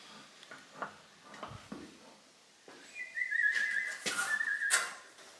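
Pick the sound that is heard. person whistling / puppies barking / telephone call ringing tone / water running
person whistling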